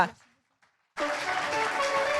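An audience at a road-safety innovation awards ceremony bursts into loud, steady applause after a brief pause, following the tail of a spoken phrase. The clapping fills the rest of the moment as a dense, even roar.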